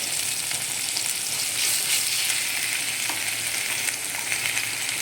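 Vegetables sauté in a pan with ginger garlic paste for a veg pasta, giving a steady, close sizzle and frying hiss throughout with faint stirring scrapes.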